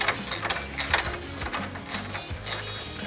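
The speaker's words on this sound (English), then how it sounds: "Jordan, grab a 7/16 wrench, please." 7/16 wrench ratcheting long bolts, quick bursts of close metallic clicking repeated several times in an irregular rhythm, with no talking.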